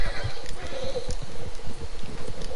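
A horse in Red Dead Redemption 2 whinnies over rapid hoofbeats clip-clopping at a gallop, with a soft rush of wind behind.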